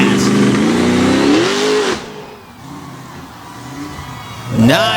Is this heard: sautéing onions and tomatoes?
no